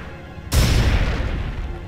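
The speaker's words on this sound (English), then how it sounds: "Petrify grenade!" A petrify grenade going off in Final Fantasy X, one sudden deep boom that swells and lingers as a rumbling roar.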